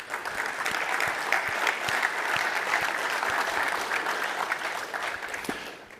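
Sustained audience clapping at a networking conference closing keynote, a steady dense patter of many hands held at an even level for several seconds.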